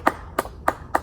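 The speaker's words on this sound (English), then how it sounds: "let's give him a nice clap" Four sharp, evenly spaced hand claps from the audience at a Mr. Punch puppet show, each one crisp and separate with brief quiet gaps between.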